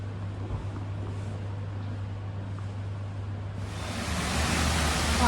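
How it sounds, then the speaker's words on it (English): Hot spring water tumbles out at the Roman baths in Bath, a steady broadband rush with a low hum beneath, swelling noticeably louder and brighter in the final second and a half as the flow comes nearer. "The water tumbling out. Steaming hot."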